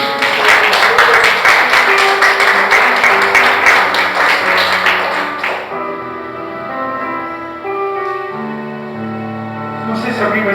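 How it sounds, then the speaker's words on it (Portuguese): A church congregation claps in a loud, dense burst of applause for about five seconds, then it fades as sustained music with held organ-like tones takes over and continues to the end. "Você pode dar mais uma aplauso ao Senhor Jesus"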